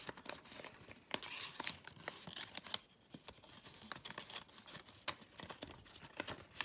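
Paper folded into a traditional origami mirror fold, heard up close as a run of crisp crinkles, creases and soft rustling taps with irregular spacing, quiet and without speech.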